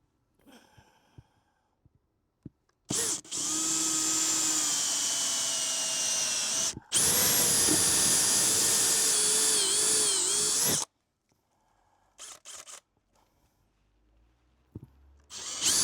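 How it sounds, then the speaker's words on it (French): A power drill bores a hole during installation of a Vevor diesel heater in a rooftop tent, with two loud sustained bursts of high whining motor about four seconds each, separated by a brief pause, then quiet handling noises. "Donc je vais percer là."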